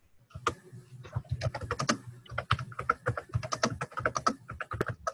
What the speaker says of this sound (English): try typing something.